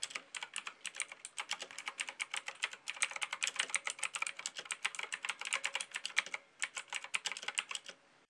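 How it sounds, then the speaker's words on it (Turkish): Rapid clicky keystrokes on a Dexim DKA007 mechanical gaming keyboard, crisp and close, typed in quick uneven bursts with no voices. "Eğer ki mekanik klavye sesi sevenlerdenseniz klavyenin bu yönü ilginizi çekebilir."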